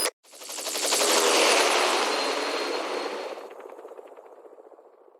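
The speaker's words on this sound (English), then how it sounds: "Just get in the chopper." Helicopter in the video game Metal Gear Solid V, a loud broadband rotor roar with rapid rhythmic chopping that swells quickly, holds steady, then thins into distinct pulsing blade beats as it fades.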